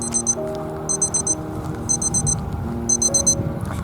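A walking timer alarm beeps in four repeated bursts of rapid high chirps, outdoors beside harvested rice fields in rural Japan, over a steady low background rumble.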